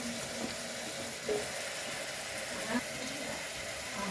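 Potato pieces sizzle steadily in a pan with green chillies for a spicy aloo curry, a close, even frying hiss with a few soft stirring bumps and a voice speaking now and then.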